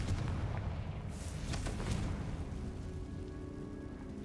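A Confringo spell explodes in the Hogwarts Legacy video game with a deep booming blast and rumbling crackle, loud and continuous over a dense low roar of game sound, with no talking.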